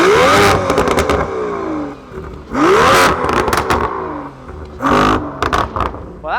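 A sports car engine revs hard in Sport Plus exhaust mode, three loud sweeping bursts that climb in pitch and then fall away, with crackles and pops between them, close and unaccompanied.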